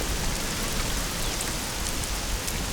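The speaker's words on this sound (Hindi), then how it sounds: "अरे बारिश हो रही है, बारिश आ रही है।" Steady rain falls continuously, a dense, even hiss of drops on surfaces with no breaks and no voices.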